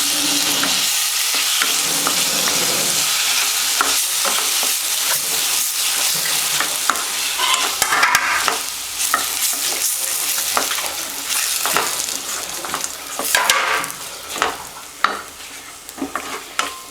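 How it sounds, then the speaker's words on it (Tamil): Tomatoes sauté in a pan with ginger-garlic paste, giving a steady loud sizzle with intermittent scraping and stirring of a spoon throughout, no voices. "தக்காளி போட்டு கொஞ்சம் நல்லா வதக்கி விடுங்க"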